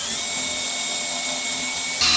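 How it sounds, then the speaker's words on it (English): Power drill with a dull bit boring into wood, a steady whirring grind close up and alone for about two seconds before a brief shift at the end. "I'm going to drill up another one here."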